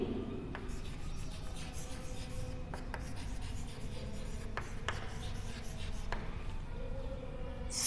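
Chalk or marker writing on a classroom board, a steady scratchy rubbing with a few sharper strokes, heard over constant room hiss and background noise, with no clear talk.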